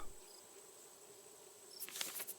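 Bees in the game Raft: a steady insect-like buzz drones throughout with a faint high whine, then a few brief bright clicks near the end.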